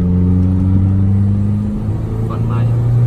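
A tuned car engine revs hard in third gear, a loud, steady droning roar that shifts pitch partway through. Voices talk over it.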